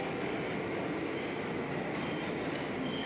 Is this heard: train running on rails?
yes